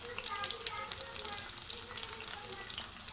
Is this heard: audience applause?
no